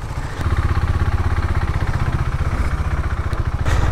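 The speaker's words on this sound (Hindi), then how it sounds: "स्टार्ट कर दिया मैंने कोल्ड स्टार्ट" A KTM Duke 390 motorcycle engine idles just after a cold start with a fast, even, slightly clattery single-cylinder thump, close and loud throughout, with no voices.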